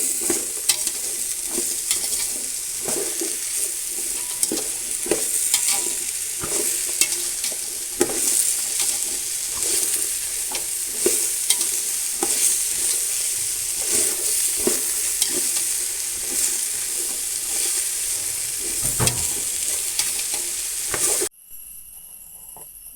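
Mango pickle ingredients sautéing in sesame oil, a constant close sizzle with regular stirring scrapes and clinks throughout, cutting off sharply at the very end.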